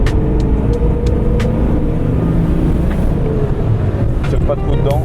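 A BMW E36 325 TDS diesel driving at an easy pace, its engine hum and road rumble steady and close under wind noise, with a voice speaking over it.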